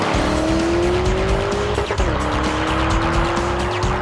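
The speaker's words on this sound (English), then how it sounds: "It burns through the quarter mile faster than a 2021 BMW M4 competition" 2021 Lamborghini Urus accelerating hard, a loud continuous engine roar with a rising tone through a gear change, close and dominant, with tire noise underneath.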